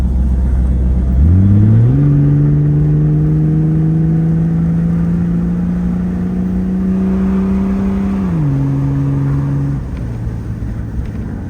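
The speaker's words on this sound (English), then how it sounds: "Now I'm going to hit the gas real quick and let you guys hear that" Jeep WJ engine with a cut-off exhaust revs up from idle, holding a loud, steady droning tone for several seconds before the revs drop back, heard up close with windows down.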